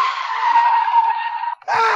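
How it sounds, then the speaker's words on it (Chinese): A car brakes suddenly, its tires skidding in a loud, sustained squeal that holds for about a second and a half, then cuts off abruptly before a brief burst of noise. "甜蜜蜜又是一个急刹车"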